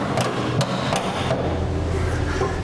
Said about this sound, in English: Now we can tap it in with a hammer.